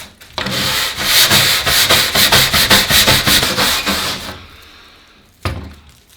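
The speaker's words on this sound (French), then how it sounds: "On va essayer avec la brosse métallique." A wire brush scrubs layered paint off an old wooden piece of furniture, a loud rapid series of rasping back-and-forth strokes for about four seconds, then quiet and one last short scrape.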